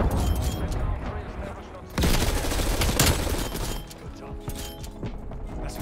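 Rapid gunfire from a Stoner machine gun in the video game Call of Duty Cold War, dense, loud bursts layered with explosions and game effects, while someone talks over the shooting.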